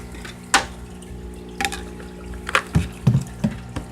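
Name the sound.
water draining through hose from fish fry tank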